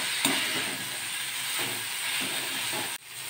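Ginger and brinjal sauté in oil, a constant breathy hiss with a few soft scraping bursts, cutting off abruptly near the end; nobody speaks.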